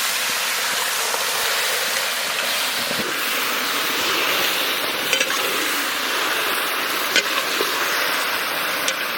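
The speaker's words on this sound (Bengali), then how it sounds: "এবারে দিয়ে দেবো হাঁসের মাংস।" Duck meat sizzles in hot mustard oil with bay leaf and cumin, Bengali village style: a steady, dense frying hiss with a few sharp pops and crackles, close and continuous.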